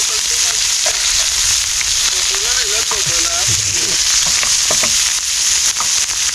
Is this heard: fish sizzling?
yes